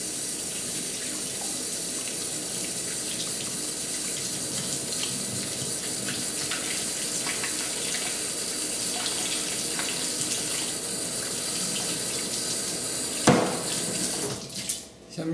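Tap water runs steadily into a sink while raw pig feet are rinsed, a close, even splashing stream with a brief clatter of handling near the end.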